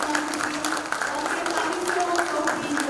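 Applause from an audience at a formal talk event, a dense, steady patter of clapping lasting throughout, with a voice speaking over it.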